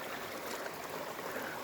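A mountain stream on the Appalachian Trail rushes steadily in a dense, even wash of water sound, close and continuous.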